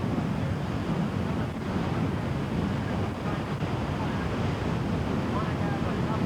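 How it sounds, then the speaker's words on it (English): Strong onshore wind and breaking surf at a windsurfing slalom race, a constant loud rushing roar of waves and wind buffeting the microphone that stays steady throughout. "Ideal wind is cross-shore, but this wind is onshore, making sailing very difficult."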